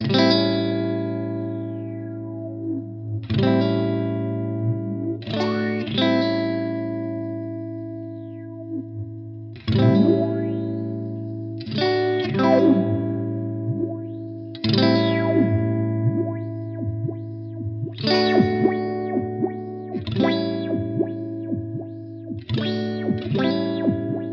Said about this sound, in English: what I'm now getting is kind of like a rhythmically synced sine wave, because that's the setting I've got